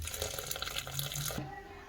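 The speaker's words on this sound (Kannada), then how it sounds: "ನೀರು ಬಸ್ಕೊಳ್ಳೋಣ." Water from a pressure-cooked pot for drumstick sambar is drained off in a home kitchen, pouring in a steady, fairly quiet stream that stops abruptly near the end.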